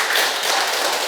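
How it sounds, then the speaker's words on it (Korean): A small audience at a Buddhist study talk gives a short burst of applause, a close, even patter of clapping hands with no voices over it. "큰 박수 한번 더 부탁드립니다"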